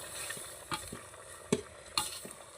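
Spices and masala sizzle softly in a pan over a wood fire for a village-style chicken curry, with a faint steady frying hiss broken by a few light stirring scrapes and taps.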